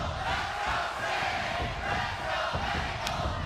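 Wrestling crowd in the Impact Zone during a Hardcore Justice 2011 main event title match, a dense, steady roar of cheering and shouting with no letup.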